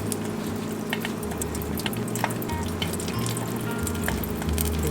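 Butter simmers in a pan while being clarified into ghee, a steady close bubbling and sizzling with soft popping bursts throughout, no voices.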